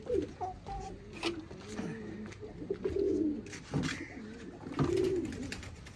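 Pet pigeons coo softly and repeatedly at close range, their low rolling calls overlapping against a steady room background with some handling noise.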